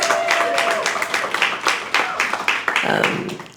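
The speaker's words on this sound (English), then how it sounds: "round of applause" An audience at an open mic night at a museum claps in a brisk, uneven patter of many hands, moderately close and sustained across the moment.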